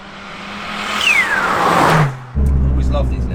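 A Toyota Starlet EP82 GT turbo engine accelerates hard, its tone rising steadily from inside the car. It drops briefly at a gear change, then picks up loud again as people talk over it.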